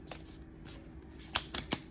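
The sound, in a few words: shuffling a deck of playing cards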